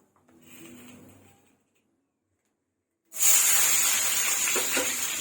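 Chopped onion hitting hot oil in a kadai while cooking an Odia style mutton curry, a sudden loud, steady hissing sizzle that starts sharply after a quiet pause and keeps going.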